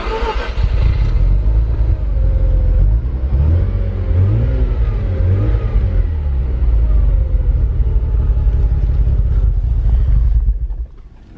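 Mazda RX-7 FC3S rotary engine cranking and catching, running loud and close at uneven, fluctuating revs for about ten seconds, then cutting out abruptly.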